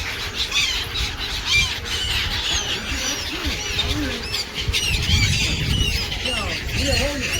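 Many birds squawk and screech together in a dense, continuous flock chorus at Dwarka, loud and close, with overlapping calls throughout and people talking faintly underneath.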